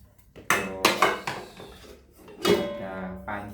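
Pieces of an aluminium camping cookware set clank and clatter as metal pots and pans bump together, with about six sharp, ringing knocks spread unevenly across a few seconds.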